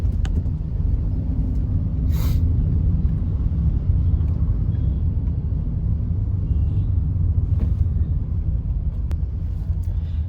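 Steady low road rumble and traffic noise from inside a vehicle driving to the office on a morning commute, continuous throughout with no talk.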